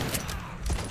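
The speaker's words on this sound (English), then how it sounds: "took two shotgun shells to kill you" Shotgun blasts from the Metro 2033 video game, a couple of loud booming shots within a second, one near the start and a heavier one near the end, over low rumbling game noise.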